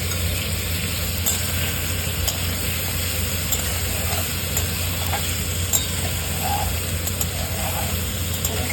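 Pieces of spiny gourd, seasoned with salt and a little turmeric, fry in oil in a pan. A steady crackling sizzle is mixed with occasional scraping clicks over a low, constant hum.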